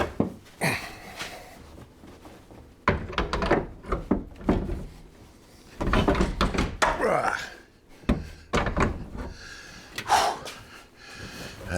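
A car door is swung and shut several times after its hinges are adjusted during A-pillar repair work. Several solid thuds and clunks come at uneven intervals, with rattling handling noise between them.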